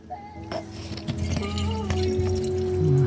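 Water drains and gurgles down a rainwater storm drain inlet being cleared of a clog, with a rising pour-like tone, steady and close, no voices.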